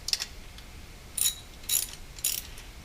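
Ratchet fitted with a 6.8mm socket on a universal joint clicks while loosening a fuel rail bolt on an Aston Martin engine, with a brief burst of clicks followed by three distinct ratcheting bursts, close and fairly quiet.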